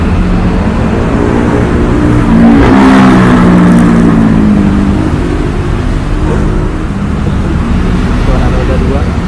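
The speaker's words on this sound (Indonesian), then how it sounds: "Suara roda 2." A two-wheeled motorbike passes by on a ring road, its engine rising in pitch and swelling loudest midway before fading, over steady traffic rumble.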